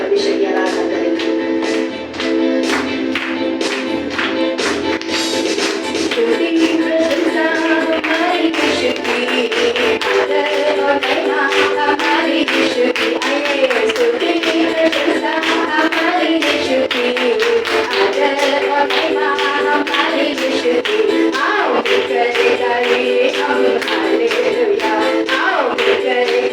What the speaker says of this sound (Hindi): आइए ताली बजाते हुए परमेश्वर की आराधना करें।